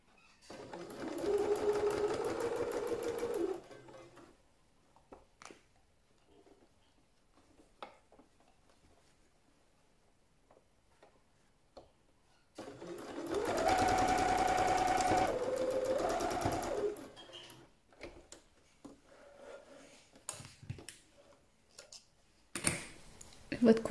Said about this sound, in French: On avance, on fait un point arrière pour fixer la couture.